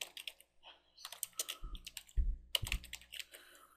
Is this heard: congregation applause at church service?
no